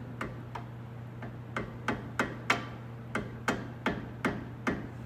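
About a dozen sharp metallic hammer taps on a flathead screwdriver driven into a Kei truck brake caliper, in a steady rhythm, fairly quiet, over a low constant hum.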